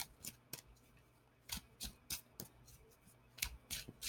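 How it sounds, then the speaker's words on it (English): Tarot cards being pulled from a deck by hand: short crisp flicks and slides, about a dozen quiet separate taps and swishes in an irregular rhythm, close and with no talking. "Now, I am going to pull some clarifying cards."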